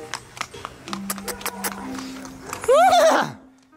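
A frightened mare neighs loudly near the end, a rising then wavering whinny close by, after scattered hoof thumps, quiet voices and a steady drone hum.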